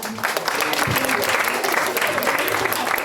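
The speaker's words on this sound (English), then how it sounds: "Everyone clap for Ekta." Steady audience applause at a book launch event, dense and continuous throughout with a few voices mixed into the clapping.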